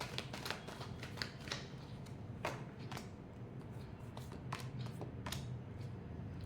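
Tarot cards being shuffled by hand in a rapid run of soft, papery riffles and taps, close and fairly quiet, with no talking.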